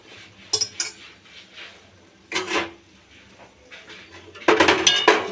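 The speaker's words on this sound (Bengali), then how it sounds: "এবারে আমি নাড়াচাড়া করে নিচ্ছি" A spoon stirs fish curry in a pot, the fried fish pieces just added to the boiling gravy: scattered clinks and scrapes of metal against the pot come in short bursts, the busiest near the end, with no talking.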